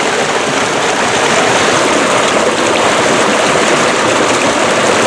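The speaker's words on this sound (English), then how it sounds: "Look at this rushing water." River water rushing past close by, a loud, steady broadband roar of fast-flowing current that continues unbroken with no voices.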